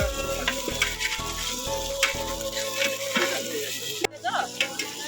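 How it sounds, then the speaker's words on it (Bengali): Food frying outdoors during a picnic cook-up of a paneer dish, a steady sizzle with stirring and scraping, mixed with a rhythmic low thumping and a sharp knock near the end. "বিপ্লব স্যার এখন রান্না তোড়জোড় করে শুরু করে দিয়েছে"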